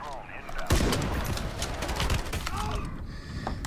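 Gunfire in the Ironsight online shooter game, a dense, continuous burst of rapid shots and battle noise throughout, loud and close, with a player talking over the game sounds.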